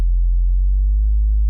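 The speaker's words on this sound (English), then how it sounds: "And then on the bottom there, we have a really simple sub as well." A deep, steady synth sub bass tone holds for a second and a half, smooth and pure with no other sounds.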